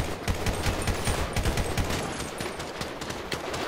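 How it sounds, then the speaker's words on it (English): Rapid gunfire in a San Andreas roleplay game, a dense fusillade of sharp overlapping shots that keeps going throughout, loud and close, with no speech. "Shots fired from the other side of the house."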